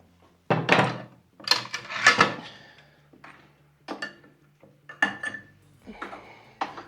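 Hot steel knife blades are set down and clamped between aluminum quench plates, giving a run of close, loud metallic clanks, scrapes and knocks in uneven bursts over a faint steady hum.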